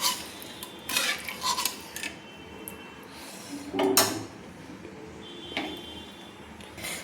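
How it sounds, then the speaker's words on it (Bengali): Spoon scraping and clinking in a pan while dissolved milk powder is stirred into a spice mix for prawn malai curry, in a few irregular bursts of stirring separated by quieter pauses, fairly close. "এই মশলার সঙ্গে দুধটা আমি মিক্সড করে নিচ্ছি"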